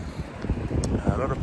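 Gusty wind buffeting the microphone outdoors in Volendam, a low rumbling roar with uneven swells throughout a short stretch, with faint voice-like sounds mixed into the rumble.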